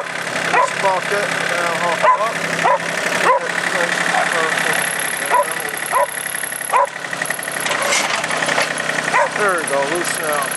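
A John Deere 790 tractor engine runs steadily with a chugging idle rumble and some clanking, close and loud while someone talks over it.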